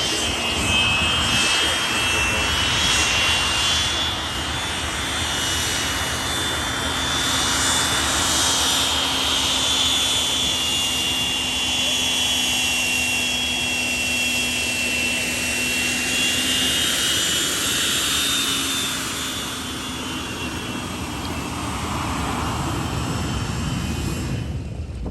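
Avro 504 biplane fitted with a modern Rotec R3 radial engine flies past at an airshow, its steady droning engine note holding loud and sustained for the full stretch, with a slight pitch shift as it passes.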